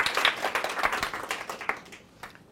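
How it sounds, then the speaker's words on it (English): An audience applauding a speaker at a talk, a crowd of hands clapping steadily at moderate distance, then tapering off and trailing away toward the end. "Please, round of applause for Emily Hunt."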